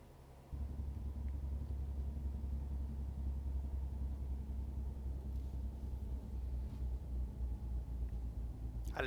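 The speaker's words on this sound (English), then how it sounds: "I love that engine noise." A truck engine in American Truck Simulator drones with a steady, low rumble that kicks in after a brief quieter moment and then holds at an even level throughout, alone with no talk.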